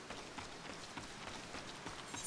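Steady rain patters in Final Fantasy XIV Online, a faint, even hiss of drops throughout with no voices.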